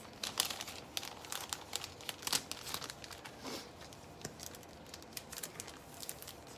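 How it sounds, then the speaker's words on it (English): Cellophane sleeves with sealing strips are handled and folded around small paper art prints, giving close, quiet crinkling and rustling in irregular bursts throughout, with no talking. "then I package them up in the cellophane to protect them in the mail"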